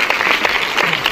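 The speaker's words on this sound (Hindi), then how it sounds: "ताली ताली बजाओ थोड़ी यार।" An audience at a comedy show applauds in a dense, steady patter of clapping, close and continuous for about a second.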